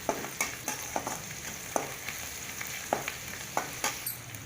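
Onions, shallots, curry leaves and vadagam fry in a pan for a green field bean kurma, a continuous close sizzle broken by regular spatula scrapes and taps roughly every half second, with no talking.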